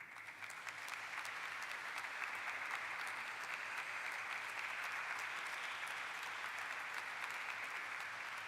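Sustained applause from an audience at the Eureka Forbes Limited listing ceremony, a thick, even roar of many hands clapping together that stays at a constant level from start to finish, with no one speaking.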